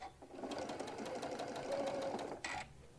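A sewing machine stitches a hobo bag in a quick rhythmic run of stitches. A short separate burst follows near the end, close and fairly quiet.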